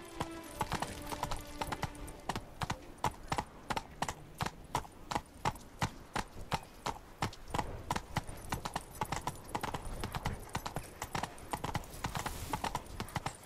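Roach the horse gallops in The Witcher 3, a steady rapid run of hoof clip-clops carrying right through, close and prominent over in-game music and ambience.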